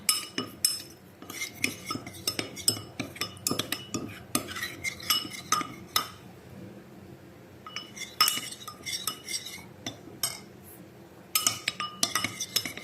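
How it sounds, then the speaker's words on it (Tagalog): A spoon stirs mahalabia dessert mixture in a pot until it dissolves, making repeated light metallic clinks and scrapes in irregular bursts, close and fairly quiet. "Halo-haloin lang hanggang sa matunaw."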